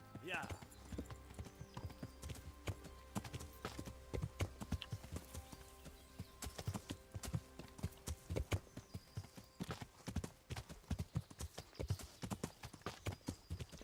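A horse summoned in the video game Kingdom Come: Deliverance gallops in steady, rapid clip-clop hoofbeats over a long stretch, with a brief whinny early on and talk running underneath.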